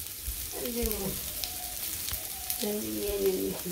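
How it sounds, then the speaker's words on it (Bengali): Bananas frying on a village cooking stove, a steady close sizzle running throughout with faint bits of voice in the background. "এক চুলাই ভাত আর এক চুলাই কলা পতি বাজছে।"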